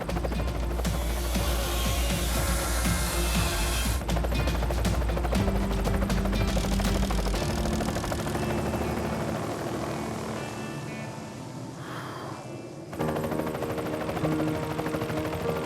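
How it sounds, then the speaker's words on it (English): Loud, continuous rotor and engine roar of a helicopter nearby as it drops poles at a house build site in New Zealand, shifting in tone as it moves, with a steady chopping throb throughout. "When the helicopter drops that pole"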